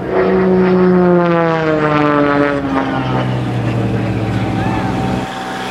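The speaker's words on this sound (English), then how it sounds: "My mom, Nancy Lynn, in the Extra 300." An Extra 300L aerobatic plane flies at an air show. Its propeller engine drones loud and close, with the pitch sliding steadily downward as it passes. No one talks.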